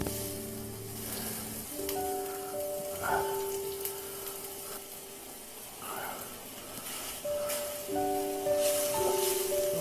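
Hash browns fry in oil in a pan on full heat, giving a constant crackling sizzle that runs throughout, with faint tonal kitchen sounds over it.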